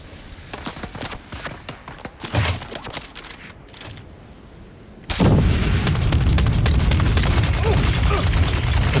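A flamethrower firing in the game Dune Awakening, a loud steady roaring blast that takes over in the second half after a stretch of scattered clicks and softer combat noises.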